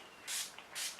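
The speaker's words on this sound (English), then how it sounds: "I just need a little bit of setting spray, De-Slick from Urban Decay." Two quick, soft hisses of Urban Decay De-Slick setting spray puff out in close succession, each a short airy burst with a brief gap between them.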